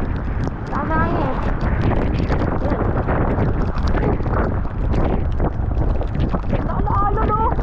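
Strong typhoon wind from Typhoon Enteng roars and buffets the microphone in a continuous loud rush, while people shout excitedly over it throughout.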